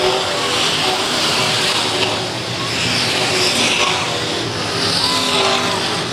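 IMCA modified race cars at Ionia Raceway Park in 2002 roar steadily wheel to wheel into turns three and four, a loud continuous engine drone with faint crowd noise and no clear talk.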